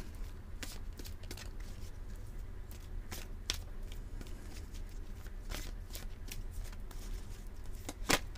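Oracle cards are shuffled by hand before one is drawn: soft, quiet repeated riffles and slaps of card stock at an uneven rhythm, close up, with no talking.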